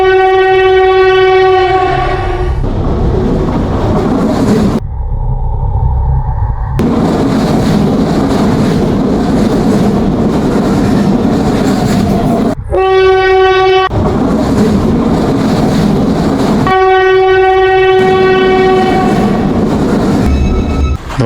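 A cartoon train rolls along with a steady clattering rumble, punctuated by loud, sustained horn blasts at the start, around the middle and near the end, with no talking.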